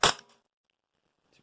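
A single sharp crack from a Walther PPQ gas blowback airsoft pistol, close and loud, followed by a brief metallic slide clatter and then near silence with a faint rustle at the end.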